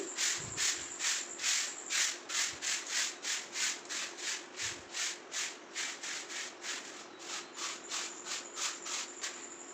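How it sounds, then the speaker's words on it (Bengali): A broom sweeps a home courtyard in steady, rhythmic scratchy strokes, about two per second and fairly close, over a faint continuous high insect-like whine and low hum. "ঘর দুয়ারটা ঝাঁট দিয়ে উঠোনটা ঝাঁট দিচ্ছি"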